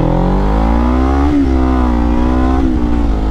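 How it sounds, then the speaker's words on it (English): A 1990 Kawasaki EX-500 motorcycle engine revs up close and loud, its tone climbing and dipping twice in quick blips over a steady idle rumble. "Here is a 1990 Kawasaki EX-500, and I have been refreshing this bike for a family member."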